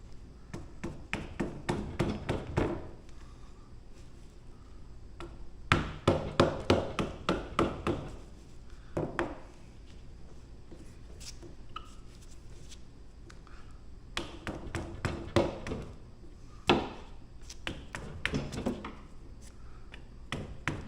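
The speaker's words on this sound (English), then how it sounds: "Lay that hammer right on that freaking plastic." Hammer tapping on plastic rear window trim during an install, bursts of quick sharp taps in rapid clusters separated by short pauses, close and fairly loud.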